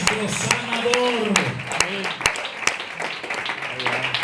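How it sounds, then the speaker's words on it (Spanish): Congregation clapping during an evangelical church service, scattered sharp claps mixed under a preacher's ongoing voice, moderately loud and close. "aplauda al Señor, por favor"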